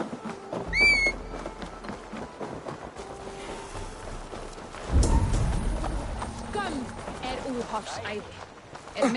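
Horse hooves clip-clop in Assassin's Creed Valhalla, with a whinny early on and a heavy rumble midway, set among ambient game sounds and low talk.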